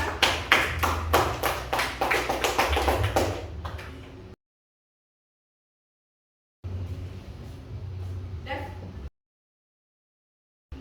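A classroom group claps for its classmates after presenting discussion results: about four seconds of brisk, rhythmic clapping, then a silent pause, then a second, softer burst of clapping that cuts off.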